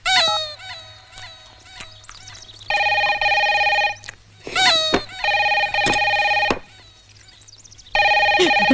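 A telephone rings in a comedy film scene, with repeated bursts of bright bell ringing separated by gaps, mixed with squawking, animal-like cries and short thumps.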